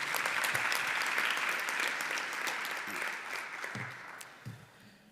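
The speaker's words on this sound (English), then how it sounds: "Another round of applause" Audience applause at an institutional fraud awareness event, steady and fairly close, fading gradually toward the end with a few stray claps.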